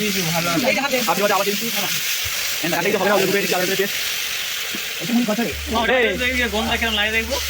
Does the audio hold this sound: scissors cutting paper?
no